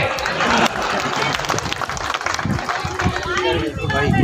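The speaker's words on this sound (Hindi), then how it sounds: "आप ताली बजा रहे हो, उनमें से कोई नहीं बजा रहा" Applause breaks out from a crowd at an outdoor political rally in Jattari, Aligarh, with brisk, uneven clapping that carries on throughout as voices murmur underneath.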